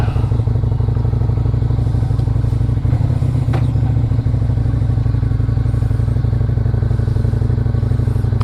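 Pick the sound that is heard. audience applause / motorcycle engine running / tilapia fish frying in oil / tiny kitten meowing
motorcycle engine running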